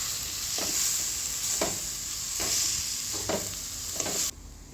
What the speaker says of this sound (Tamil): அப்புறம் இந்த தேங்காய் போட்டுட்டு லைட்டாக தான் வதக்கணும், ரொம்ப வதக்கக்கூடாது.